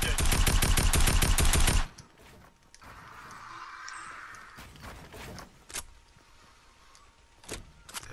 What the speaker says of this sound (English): he's trying to use his choke gun